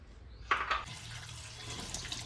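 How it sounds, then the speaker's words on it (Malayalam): Water splashes into a pot of salted tapioca pieces set to cook, a short, fairly quiet pour with a brighter gush in the first second before settling into a softer steady flow. "വേവാൻ ആവശ്യത്തിനുള്ള വെള്ളം."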